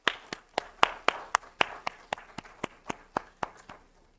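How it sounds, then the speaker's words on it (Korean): Clapping rings out in a church, a run of about fifteen sharp claps in a steady, even rhythm, close and clear with a slight room echo, slowing and softening a little toward the end. "우리 하나님께 영광의 박수 한번 올려드립니다"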